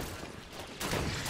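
Gunfire from an enemy soldier in Halo 5: Guardians, a brief dense rattle of shots that swells louder partway through and sits within steady game noise.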